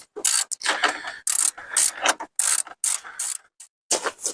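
A ratchet working on nuts holding a Dodge Neon radiator to the condenser, loud close bursts of rapid clicking in short irregular strokes with brief pauses.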